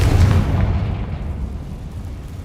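A Confringo fire-blast spell cast in Hogwarts Legacy, heard as a single deep whooshing boom that starts loud and rumbles away over a couple of seconds, with no talking.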